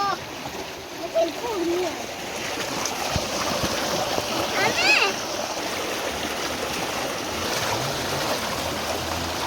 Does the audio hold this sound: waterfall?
yes